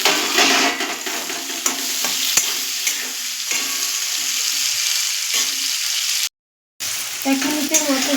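Potatoes and tomato stirred in a frying pan for an egg-and-potato daliya dish: steady hiss of frying with repeated scraping, clinking stir strokes, close and fairly loud, briefly cut to silence near the end.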